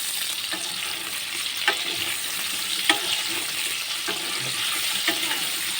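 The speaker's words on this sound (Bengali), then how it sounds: "আলুটা ভালো করে ভেজে নেব" Potatoes frying in a pan while cooking vegetarian capsicum paneer: a steady, close sizzle with occasional clinks and stirring scrapes, and no talk.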